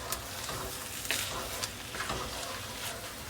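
Frozen peas being stirred into a chicken, chorizo and shrimp paella in hot liquid, a soft bubbling sizzle with a few scraping stir strokes, fairly quiet and without talk.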